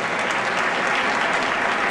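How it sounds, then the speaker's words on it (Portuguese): A church congregation claps steadily and loudly, a dense wash of applause that holds at an even level throughout. "Vamos aplaudir nosso esse homem valente do Senhor"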